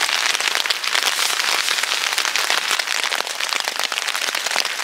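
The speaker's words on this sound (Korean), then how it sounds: "빗소리 너무 좋다." Heavy rain pours onto a tent at a solo campsite, a loud, dense and continuous patter of drops drumming on the fabric close by, with no voices.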